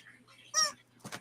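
Chickens give brief clucks and a sharp squawk, close and fairly clear, a quick pair of calls within a second over a quiet low hum.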